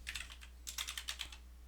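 Typing on a computer keyboard during Active Directory troubleshooting, a fast run of light, close key clicks in two bursts separated by a short pause, with no voices.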